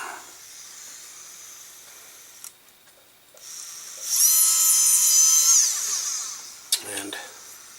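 A small high-pitched flex shaft drill whines steadily for a couple of seconds boring a hole in a jewelry earring piece, then winds down, followed by a few clicks and light handling noises.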